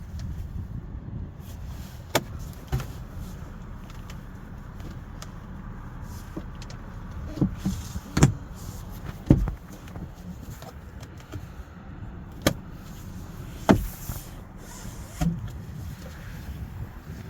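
A power moonroof on a 2024 Honda Ridgeline TrailSport slides closed under a low steady rumble, with several sharp clicks and thumps spaced through the clip.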